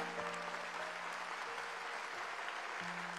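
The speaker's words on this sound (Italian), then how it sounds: "Quindi un applauso a Maestro Tornatore" Concert audience applauding a film director, steady dense clapping throughout with a faint held musical tone underneath.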